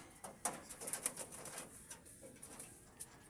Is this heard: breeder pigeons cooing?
yes